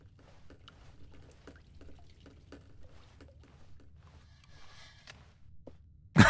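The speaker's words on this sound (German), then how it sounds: "Oh, da tropft es." Sparse, faint water drips fall at irregular intervals in the video game The Stanley Parable Deluxe, set in an office, over a low ambient hum, with a brief loud burst at the very end.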